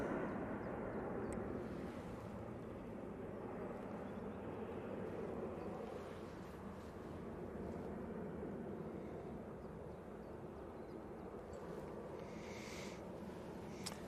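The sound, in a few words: EasyJet jet airliner taking off to Bilbao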